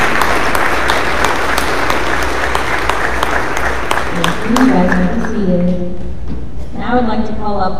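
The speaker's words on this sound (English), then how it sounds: "Please give a round of applause to our juniors." An audience applauds juniors at a school Evening of Excellence awards ceremony, dense steady clapping filling the room before fading out under a voice speaking near the end.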